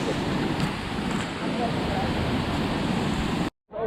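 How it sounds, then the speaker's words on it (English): A waterfall in Laos roars as a steady, dense wash of rushing water, loud and close, cutting off abruptly near the end. "My goal is to get under that waterfall."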